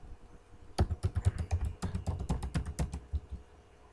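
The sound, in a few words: typing on a computer keyboard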